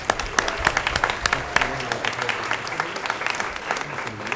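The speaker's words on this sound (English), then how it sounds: "Now, you can clap for her" An audience at a school board of education meeting applauds in a lively burst of clapping, individual sharp claps standing out over the general patter, with a few voices mixed in.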